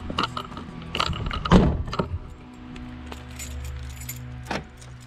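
A bunch of keys jangles and clinks, picked up along with a flashlight at an abandoned, vandalized housing estate, with one louder rattle followed by lighter metallic shuffling and a final clack.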